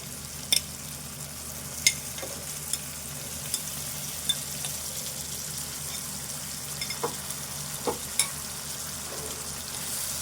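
Fried goat liver sizzles steadily in a pan of frying masala, a constant low crackle under occasional sharp clicks and scrapes of a spoon stirring against the pan.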